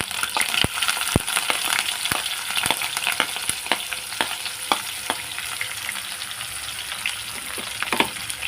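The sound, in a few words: onion, green chilli and curry leaves frying in a pan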